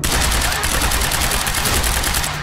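Loud continuous bursts of automatic weapon fire in the video game Quantum Break, rapid overlapping shots with a steady rattling rhythm filling the whole moment.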